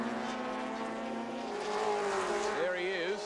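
Touring race cars, among them a BMW, at the 1984 Australian Touring Car Championship round at Symmons Plains, with engines droning steadily and then swelling and shifting pitch as cars pass, with commentary over the top.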